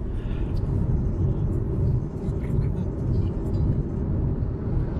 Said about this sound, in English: Look at the traffic. Miles and miles of trucks and cars.